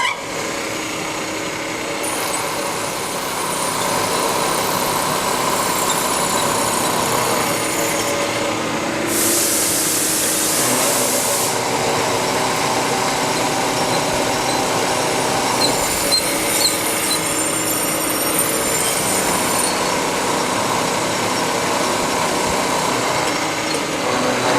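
An end mill on a milling machine takes a light finish pass, decking a vise stop part to thickness. The cut produces a continuous, moderately loud machining whir with faint squeaks, and a brief hissy burst comes near the middle.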